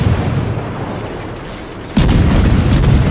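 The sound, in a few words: warship naval gunfire in video game World of Warships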